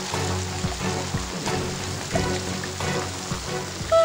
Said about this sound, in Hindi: मुझे बारिश में नहीं भीगना प्लीज